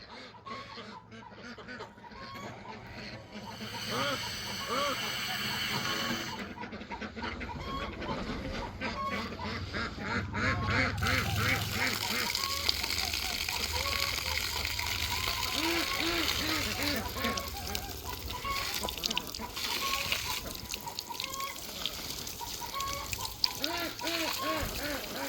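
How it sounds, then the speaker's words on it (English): Farm ducks quacking and calling repeatedly near a hydrant being opened to send water to a barn, a busy chorus of honks and quacks over rushing, splashing water, with occasional voices. "Where are you going, ducks?"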